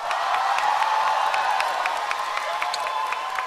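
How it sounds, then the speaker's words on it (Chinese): A studio audience on a televised singing competition breaks into applause, a dense, even wash of clapping with faint cheering underneath. "请掌声鼓励"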